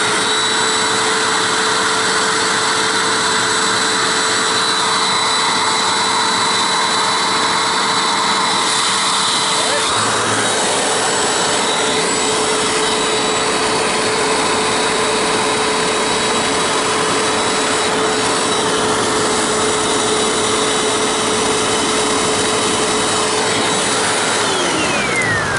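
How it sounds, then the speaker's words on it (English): A Hoover upright self-propelled WindTunnel U6439 vacuum cleaner runs with a steady, loud motor drone and a high whine, holding constant for the whole stretch with a slight shift in tone partway through. "Let's put this to the exhaust of the machine. It exhausts in a few areas."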